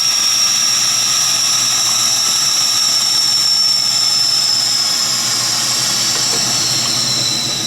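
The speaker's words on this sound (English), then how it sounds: "Release the pressure." Air rushes into a vacuum chamber as the pressure is released after degassing silicone, producing a loud, steady, broadband hiss that holds constant throughout with no voices.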